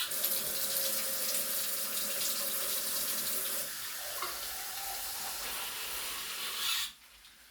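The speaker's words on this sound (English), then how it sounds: "Want to add a little hot water to it." Hot water streams steadily from a tap or kettle with a broad splashing hiss, shifting tone partway through before stopping abruptly near the end.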